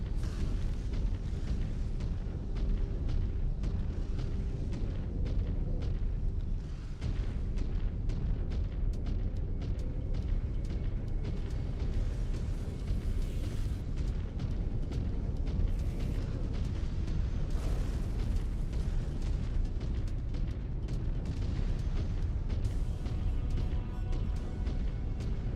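Explosions and heavy booms from a mech blowing up in the MechWarrior 5 Clans game, with continuous loud rumbling blasts and bursts filling the whole stretch, no talk.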